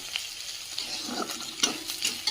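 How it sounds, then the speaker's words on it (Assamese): Onion, ginger and garlic fry for a pork curry, a steady close sizzle broken by light scraping stirs and a few sharp spatula taps against the pan. "পিঁয়াজ আদা নহৰু এইখিনি গোটেই ধুনীয়াকৈ ভজা হৈ গ'ল"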